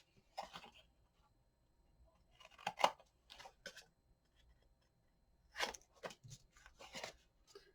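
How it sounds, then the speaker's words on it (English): Scissors trimming paper pieces for a handmade mini album: several close, quiet bursts of crisp snipping and paper rustle separated by short pauses, with no talking. "then I just cut it, and we're just going to trim everything up"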